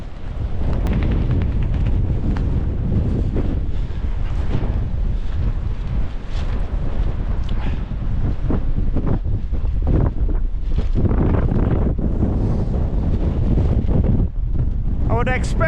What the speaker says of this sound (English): When we first pitched it, the wind was smack on square, but now it's shifted to this quarter of it.